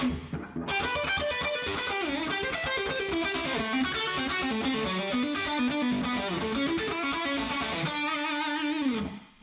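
Electric guitar plays the opening of an arrangement of a Bach piano piece, a busy, continuous stream of rapid notes with a distorted, effected tone, loud and alone with no talking.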